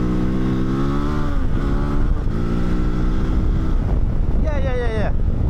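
A KOVE 450 Rally motorcycle engine pulls hard through third gear between roughly 4000 and 6000 rpm, its pitch climbing steadily and then rising sharply near the end. Strong wind rush sits under the engine throughout.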